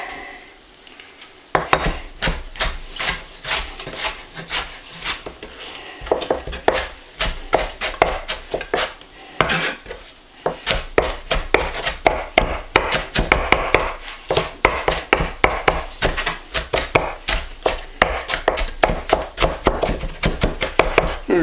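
Knife dicing vegetables for a vegan beef stew on a cutting board, a long run of rapid, sharp chops in uneven bursts with short pauses, close and crisp without talk.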